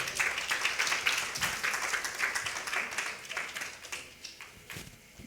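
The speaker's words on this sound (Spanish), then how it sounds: "Dale un aplauso porque este sí es para acá." A church congregation claps during a sermon, with many close hands giving brisk, uneven applause that gradually thins and fades toward the end.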